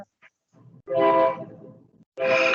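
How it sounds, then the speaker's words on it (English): A train horn blares from nearby tracks in two long, loud blasts separated by a short gap, the second cut off at the end, with faint low rumble between. "there's a train horn in the background"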